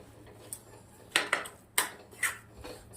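Dry fruit churma laddu mixture being stirred in a pan over a low gas flame, a spoon scraping and clinking against the metal in several light, uneven taps, close and fairly quiet with no talking.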